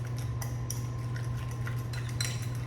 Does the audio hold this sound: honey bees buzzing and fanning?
no